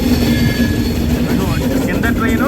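An SMVT Bengaluru-Howrah express train runs beneath an elevated metro line, giving a loud, steady rumble with a sustained low hum and faint wheel clatter throughout.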